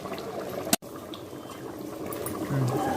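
Chicken curry bubbling steadily in a pot, a continuous close simmering burble with one sharp click partway through.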